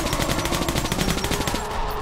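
A heavy-recoil automatic weapon in Metro Last Light fires a fast, even stream of loud, close shots that run for about a second and a half before cutting off.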